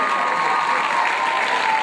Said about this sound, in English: Give him a round of applause yourself.